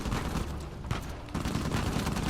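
Enemy minigun fire in the video game Uncharted 4 roars as one dense, unbroken burst with a brief dip partway through.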